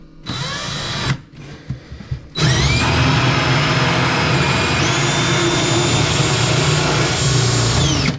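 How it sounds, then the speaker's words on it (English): A power drill whines loudly in short bursts, then runs continuously at high speed, grinding steadily as it bores through a wall for an ice maker water line. "he's got enough room to drill over there"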